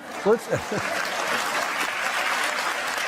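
Studio audience applause on a cable news political talk show swells as a brief spoken phrase ends, then holds as a steady wash of clapping.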